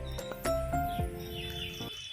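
Myna birds chirp in short, bright calls, several scattered tweets over a couple of seconds amid light clicks and background noise, moderately near.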